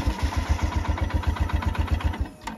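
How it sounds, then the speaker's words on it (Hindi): A motorcycle cold-started on a chilly morning after a night parked outdoors near Chopta on the Tungnath trek, idling with a fast, even, close thumping beat, alone with no talk. "अभी मैं जा रहा हूँ बाइक को जो है कोल्ड स्टार्ट करने के लिए"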